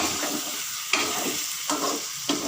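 Potatoes and chicken sizzling and frying in a hot pan, a constant crackling hiss with a few sharp bursts as it is stirred.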